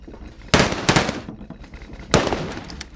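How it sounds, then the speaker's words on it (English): Gunfire sound effect in a horror audio drama: two sharp loud bursts, one around half a second in with a quick follow-up crack, another near two seconds, each with a noisy rattling decay, no voices. "It sounded like gunfire."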